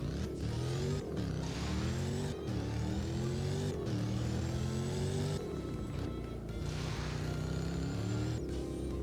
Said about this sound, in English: what I think sounds the best is the Range Rover Sport SVR. That startup is really,